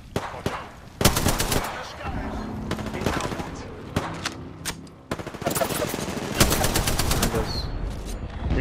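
Apex Legends gunfire rattles in loud automatic bursts, sharp single cracks near the start, a long heavy stretch from about 5 seconds to the end, with players talking underneath.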